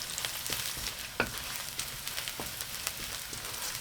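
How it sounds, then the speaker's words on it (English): Garlic, ginger and dry chilies stir-frying in hot oil for Korean fried chicken sauce, a soft continuous sizzle broken by scattered light scraping taps of stirring, fairly quiet and with no voices. "As soon as a good scent rises, add the dry chilies. Stir for 10 seconds."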